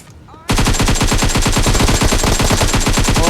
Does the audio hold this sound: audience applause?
no